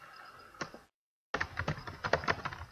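Close computer keyboard typing as a server name is entered, a few soft key taps, a short silent gap, then a quicker run of clattering keystrokes.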